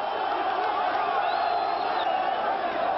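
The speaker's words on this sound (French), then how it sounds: "Quelques rares applaudissements vite couverts par les cris « Arafat dehors »" A large Palestinian crowd chants and yells in protest against Arafat, a continuous massed roar of voices with a few higher shouts standing out over the din.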